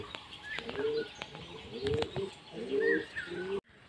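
Pigeons coo and chirp close by in overlapping, throaty calls, with a faint flutter of wings, before the sound cuts off abruptly.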